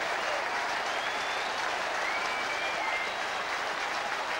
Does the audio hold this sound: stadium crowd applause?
yes